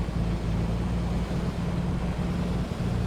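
Piper Comanche piston engine in a flight simulator, running steadily while being leaned on the ground, a continuous low droning hum with even texture throughout and no voices.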